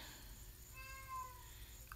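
A single cat meow, drawn out and fairly faint, rising and falling over about a second against a quiet low hum.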